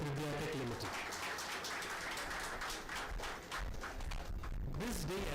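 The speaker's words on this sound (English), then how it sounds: "A big round of applause for Tridhya Tech Limited" Applause at a stock exchange listing ceremony for Tridhya Tech Limited, a soft, steady patter of clapping from a gathered crowd heard at a distance, with a voice speaking at the start and end.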